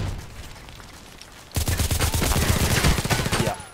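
Rapid gunfire from the online shooter Contract Wars: a quiet stretch gives way to a loud, sustained burst of many close, rapid shots that continues to the end without pause.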